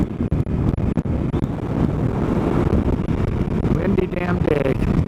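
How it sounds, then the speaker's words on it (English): Steady, heavy wind buffets the microphone while riding a Suzuki DL-800 V-Strom or Indian FTR 1200 through Sierra Nevada ranch country, a loud continuous low rush with gusty dropouts. "Windy damn day."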